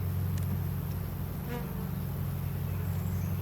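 Honeybees buzzing around a small nuc hive box, a dense, steady, close drone of many insects with no pauses.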